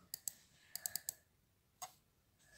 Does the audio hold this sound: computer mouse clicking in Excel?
yes